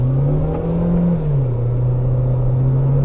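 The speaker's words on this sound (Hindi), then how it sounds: "जो इंजन का नोट है ना वो काफ़ी बेसी है" Tata Sierra engine droning with a deep, bassy note while driving, a steady low hum that dips slightly in pitch midway, loud and close with road rumble and no talk.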